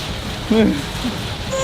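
Rain falls during a behind-the-scenes shoot for a music video in February, a steady broadband hiss that runs through the whole clip while someone talks over it.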